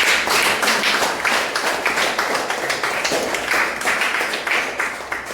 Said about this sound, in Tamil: திரு த ரமேஷ் ஒன்றிய அமைப்பாளர் அவர்களையும் உங்கள் அனைவரின் சார்பிலும் கமலாலயத்தின் சார்பிலும் முதற்கண் வருக வருக என கைத்தட்டல் மூலம் வரவேற்கிறேன்